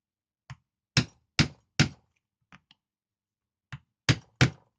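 Sharp, separate mallet strikes on Tandy pro stitching chisels driven into leather: a lone tap, three firm blows, two small taps, then three more solid knocks, close and dry with silence between.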